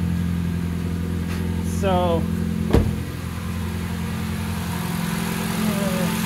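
A car engine idles steadily after a winter lay-up, a constant mid-low hum nearby throughout, with someone talking briefly over it and a sharp knock partway through.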